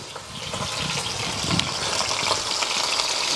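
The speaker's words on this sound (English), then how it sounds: "Nice sizzle already. if you don't hear that, the pan's not hot yet." A dense, steady crackling hiss of beef short ribs searing in a hot pan, close up and continuous with faint popping throughout.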